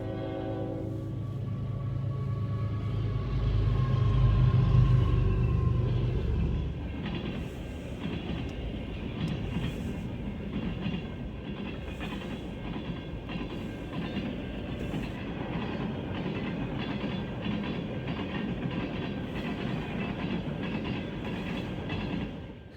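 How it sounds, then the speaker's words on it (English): A Canadian National mixed freight train led by two GE Evolution-series (GEVO) locomotives rolls past close by, a loud diesel roar at first giving way to a steady rumble and clickety-clack of wagons over the rails. "it's a Canadian National Mixed Freight with 2 GEVOs"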